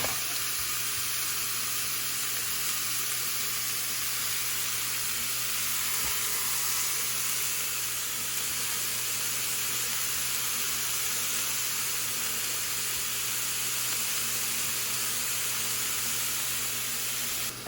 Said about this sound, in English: So we'll add this and saute.